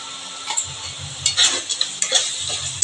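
Duck eggs sizzle in a pan with an onion and garlic masala, a soft frying hiss broken by several sharp scrapes and clinks of a utensil stirring against the pan, close and without talk.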